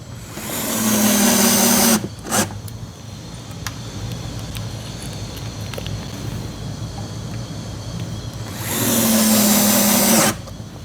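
Power drill driving fasteners to mount a washing machine outlet box in a wall, two loud whirring bursts at start and end with quieter shop noise between.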